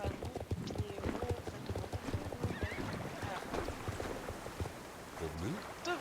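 Horse hooves clop steadily in a video game while someone talks over them. A faint whinny and some watery ambience sit underneath.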